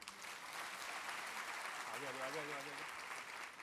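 Steady applause from a crowd fills the whole stretch, with a voice briefly rising over it near the end.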